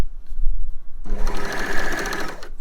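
Overlocker sewing machine stitching fabric while sewing a sports bra, starting after about a second as a loud, steady, rapid mechanical whir that runs to the end.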